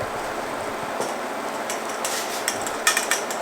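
Chunks of beef go back into a pot of Hungarian goulash stew with bay leaves, giving a steady sizzle broken by light clinks and taps of metal utensils against the pot, growing busier toward the end.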